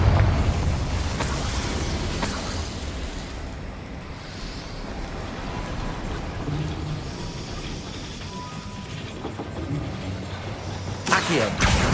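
Booming explosion from a blasting spell in the video game Hogwarts Legacy, a dense, loud roar of rumbling blast noise that fills the clip, followed by a sharp burst near the end.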